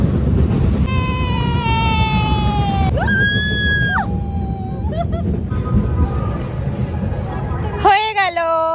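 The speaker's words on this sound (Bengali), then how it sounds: "তাই আজকে আমি আর মেয়ে এখন উঠছি ট্রেন চড়তে।" A fairground toy train ride at a village fair rumbles along in the wind, with drawn-out high whistle-like tones and excited shrieks while people talk and a child cries out nearby.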